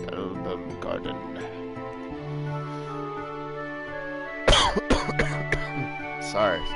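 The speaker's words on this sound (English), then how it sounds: "still got that nasty-ass cough that just won't leave me" A man coughs and clears his throat in harsh, short bursts over background game music and talk, with a couple of separate loud coughs near the end.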